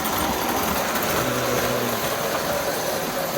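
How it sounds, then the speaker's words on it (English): Steady, smooth whirring hum of a prewar Lionel Union Pacific M-10000 toy train engine running with cars on track, continuous and fairly loud with no talking. "But it is a good smooth running engine."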